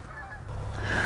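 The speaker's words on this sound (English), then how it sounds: "14-year-old Blake Hodge down there on the call." A goose call blown during a goose hunt gives a steady run of nasal honks, loud and close, with outdoor background noise and no talking.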